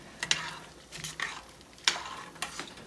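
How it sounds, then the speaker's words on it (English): Pasta stirred in a cooking pot, with three or four short scraping, swishing strokes in an uneven rhythm, close and moderately loud, with no talking. "Just take a little break and stir the pasta before I forget."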